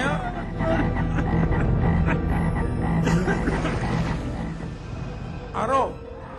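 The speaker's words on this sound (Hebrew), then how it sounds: "מכה שנייה צפרדע" Dense chorus of frogs croaking continuously, loud and close, with a voice briefly audible near the end.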